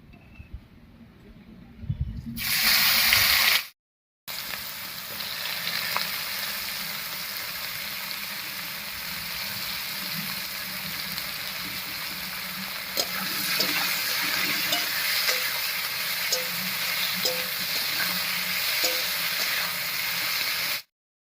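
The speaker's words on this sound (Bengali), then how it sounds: "বেশ কিছুক্ষণ সময় নিয়ে পেঁয়াজটা বেশ লাল লাল করে ভেজে নিয়েছি" Chopped onions fry in oil seasoned with a bay leaf and whole cumin for a chicken curry, giving a steady close sizzling hiss that stops briefly, then continues evenly and grows slightly louder.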